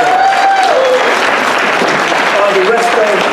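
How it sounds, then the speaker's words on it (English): A conference audience gives a round of applause, a dense, loud wash of clapping that lasts throughout, with faint voices rising above it. "I just really want to give her a great round of applause"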